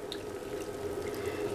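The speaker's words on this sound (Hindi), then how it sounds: "थोड़ा और पानी डालेंगे।" Hot water is poured into potato stuffing in a pan for Kutchi dabeli, making a steady, continuous trickle with a faint liquid hum, close by and moderately quiet.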